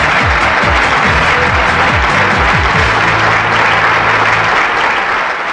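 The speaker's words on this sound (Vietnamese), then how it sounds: "Cho một tràng pháo tay cổ vũ tinh thần của họ" Loud, sustained audience applause on a Vietnamese television game show, thick and even throughout, with a host's voice faintly under it at the start.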